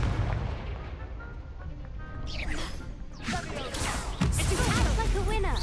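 Spell explosions and magical blasts from the Confringo fire spell in Hogwarts Legacy, heavy booming cracks and whooshing bursts layered in busy combat, loud and close, with a voice shouting over the chaos.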